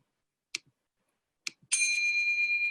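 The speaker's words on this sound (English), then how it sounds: "So you'll be hearing this specific sound, the bell ring, to denote that 1 minute and 3 minutes is up." Two short, soft taps are followed by a clear, bright bell ring that sustains and fades, the timer signal used in an online parliamentary debate.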